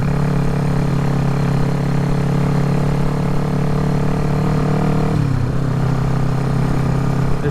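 A motorcycle engine, a long-neglected bike being revived with a suspected fuel-starvation fault at the petcock, runs close and loud at a steady, comfortable RPM with a constant droning hum, then briefly dips and wavers near the end before settling again.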